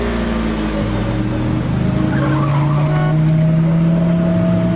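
A car engine runs steadily and loudly, rising into a sustained drone as the vehicle pulls away, with a brief higher squeal partway through and no talking.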